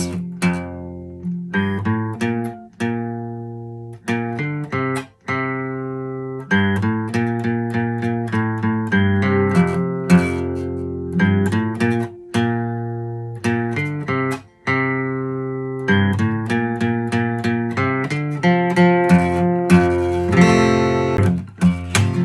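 A distorted guitar in a lowered tuning plays a chugging riff from a song, repeated chords and single notes, loud and steady throughout.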